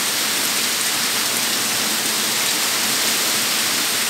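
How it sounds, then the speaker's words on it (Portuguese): Dense, steady heavy rain pours down with a constant hiss, loud and close, with no voices or other sounds. "agora pensa uma chuva grossa"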